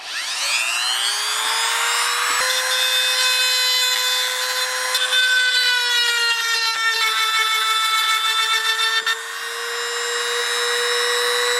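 A power tool grinds a brake light switch part for a 1980–93 Fox Body Mustang, giving a loud, steady high-pitched whine that rises at the start and holds with slight pitch shifts throughout, with no talk.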